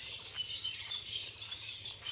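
Birds call and squabble in a bamboo grove by a riverside path, giving thin, high chirps and scattered calls throughout, fairly faint and set back from the listener over quiet outdoor ambience.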